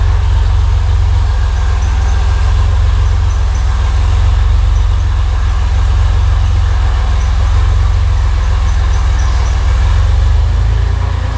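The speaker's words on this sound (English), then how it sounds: "The idle's a little rough right now" A rock crawler build's engine idles roughly, a loud, continuous low rumble close by that holds steady throughout with no talking over it.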